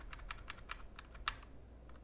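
Keys pressed on a computer keyboard in a quiet room, a quick run of about ten light clicks at a steady rhythm, close and faint over a low background hum.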